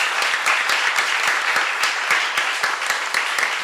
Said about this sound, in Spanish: Les vamos a pedir un muy fuerte aplauso para Gabriel Rolón y Alejandro Tantanian